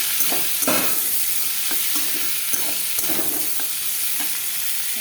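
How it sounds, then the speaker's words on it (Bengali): Chopped onions fry in hot oil in a pan, giving a steady broadband sizzle while a utensil stirs them with scattered scraping clicks throughout. "ভালো করে ভাজা ভাজা করে দিই।"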